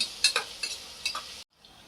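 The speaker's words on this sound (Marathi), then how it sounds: "या कांद्याला जे आहे ते आपल्याला छान तांबूस होऊ द्यायचं आहे तर आता फ्लेम जी आहे ती आपली हायवरतीच आहे" Onions frying over a high flame in a pressure cooker for prawn dum biryani, giving a steady close sizzle with a few sharp stirring scrapes before the sound cuts out abruptly near the end.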